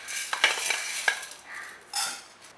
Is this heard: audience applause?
no